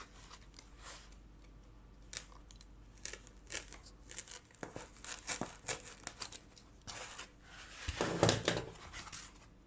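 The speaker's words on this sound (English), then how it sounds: "next we want to make a cut for the sword." Foam is sliced to cut a slot for a miniature sword in a DIY foam tray, giving a run of soft scraping, tearing and crinkling strokes in uneven bursts, close and fairly quiet, growing busier and louder near the end.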